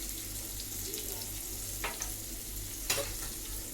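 Bottle gourd is stirred in a hot pan with salt and turmeric. A steady sizzle runs underneath, and two sharper scrapes of the spoon stand out against the pan.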